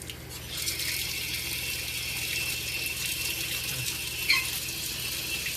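A hot water faucet runs steadily into a sink, a soft continuous hiss and trickle with a faint mechanical hum from the water heater beneath it.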